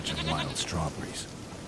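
A goat bleating in the video game The Witcher 3, a short wavering bleat over background game ambience with a person talking.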